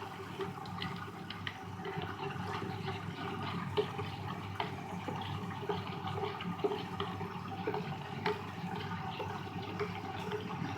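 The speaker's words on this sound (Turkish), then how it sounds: "Evet makinam da dönüyor." An Arçelik 3320 washing machine on a cotton 60 cycle runs and fills with water, giving a steady watery rushing hum with small clicks and knocks throughout.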